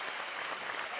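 An audience claps for a swim at the 2017 NSAA Nebraska state swimming championships, a brief burst of steady, dense applause echoing through an indoor natatorium.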